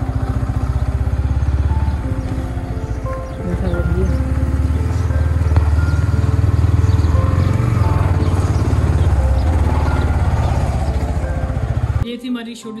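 A motorcycle on a short ride gives a loud, steady, throbbing engine rumble close by for about twelve seconds, with wind and road noise mixed in. It cuts off abruptly near the end.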